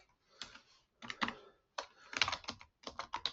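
Close, crisp keystrokes on a computer keyboard as a formula is entered, clicking in short bursts separated by brief pauses, with no talking.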